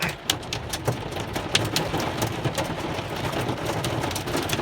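Hailstones and rain pelt a vehicle in a July thunderstorm with lightning, a thick, close clatter with irregular harder strikes popping out over the steady downpour.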